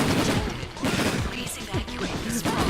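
Rapid gunfire from the video game The Hand of Fate bursts loudly and continuously, mixed with crashes and impact sounds in a dense, chaotic stretch, with a person talking over the action.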